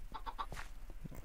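Minecraft chickens clucking in a video game, a quick run of three short clucks followed by a few softer sounds, close and moderately loud.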